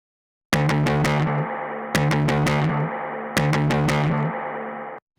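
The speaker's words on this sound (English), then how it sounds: "And then the bass guitar wet track." Three sustained, heavily distorted bass notes, each with a sharp attack, ringing out with a trailing echo before cutting off.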